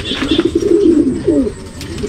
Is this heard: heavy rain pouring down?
no